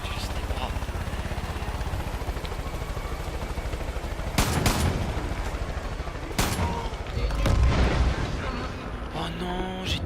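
Rockets explode after being shot in Far Cry 5, as a burst of booming blasts and crackling detonations over constant loud game background, with a few separate explosions spread across the stretch.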